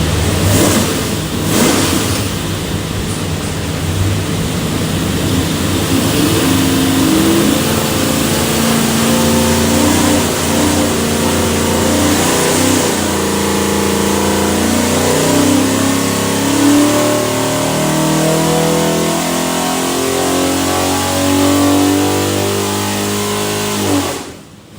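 A 489ci big block Chevy V8 bound for a '72 Nova roars on a dyno run, loud and sustained as the engine revs steadily upward through the pull, then cuts off abruptly at the end.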